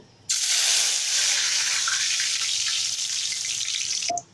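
Bay leaves and spices hitting hot oil in a wok, a sudden loud, steady sizzle that starts abruptly, holds for about four seconds and then cuts off, with no talking.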